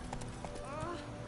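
Horse hooves clip-clop in The Witcher video game, a few quick hollow hoof knocks within a second or so, close and mixed with background game sound and a voice.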